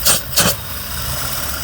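A vintage Mopar car engine, warmed up after about five minutes of running, idles with a steady low rumble close by, with two brief louder hissing bursts near the start.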